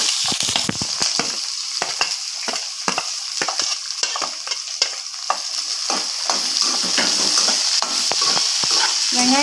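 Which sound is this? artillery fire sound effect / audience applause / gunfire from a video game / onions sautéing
onions sautéing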